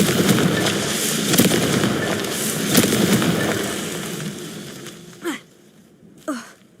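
Confringo fire-blast spells in a Hogwarts video game go off in a rapid crackling, fireworks-like barrage, followed by two separate sharp whooshing blasts as the scene quiets.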